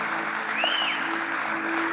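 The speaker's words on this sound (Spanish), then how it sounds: "Denle un aplauso al Rey." A church congregation applauds steadily, a dense continuous patter of many hands, with a faint whistle rising briefly above it.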